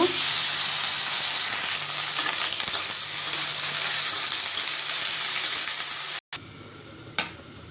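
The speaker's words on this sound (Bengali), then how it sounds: "ওইদিকে ভেন্ডি ভাজা হচ্ছে" Cut and washed okra (bhindi) frying in a pan gives a close, steady sizzling hiss that runs unbroken, briefly drops out near the end, then returns with a small clink.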